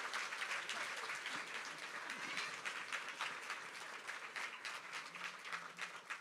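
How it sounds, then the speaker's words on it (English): An audience applauds at the 2024 inauguration of the Milwaukee County Executive after the national anthem, a faint, steady wash of clapping with slight swells, heard alone. "Can we give them another round of applause, please?"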